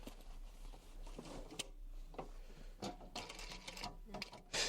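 A sewing machine stitches the zip border of a box cushion cover in quiet, intermittent bursts of rapid needle clatter, pausing between runs, with faint room noise and a low steady hum underneath.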